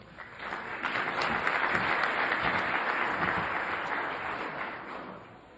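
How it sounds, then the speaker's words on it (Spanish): An audience applauds the introduction of a speaker at a lecture on science and religion, a full, sustained round of clapping that swells and then slowly fades. "Un aplauso, por favor."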